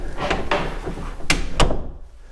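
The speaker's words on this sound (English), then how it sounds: "Let's shut the door, take a look." An interior door with newly replaced hinges is swung shut, giving a few close wooden knocks and a firm latching thump near the end.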